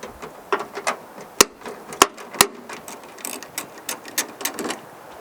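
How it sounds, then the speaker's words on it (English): Socket ratchet loosening an 8mm tail light bolt on a Tesla Model 3/Y, giving close irregular clicking with a few louder sharp clicks over a few seconds, no talk. "So this time I'm gonna use a socket with a ratchet"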